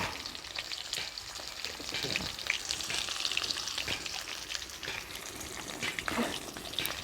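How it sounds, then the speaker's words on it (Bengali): Potatoes fry in oil in a pan over a wood fire, with a continuous close sizzle and crackle broken by scraping stirs and spatters. The frying sounds alone, with no talk. "তা আমার আলু ভাজার সময় আমি একটু লবণ আর একটু"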